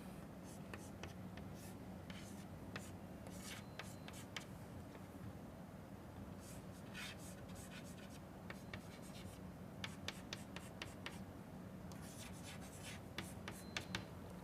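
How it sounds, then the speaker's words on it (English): Hand drawing of a molecule in an organic chemistry lesson, soft scratchy pen or marker strokes in irregular clusters on a board or paper, quiet with a steady background hum. "let me draw it once again here"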